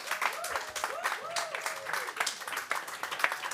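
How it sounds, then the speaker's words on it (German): Audience applause for a speaker at a university future festival stage event, a fairly soft, continuous patter of clapping from a crowd with faint voices mixed in. "Einen großen Applaus bitte"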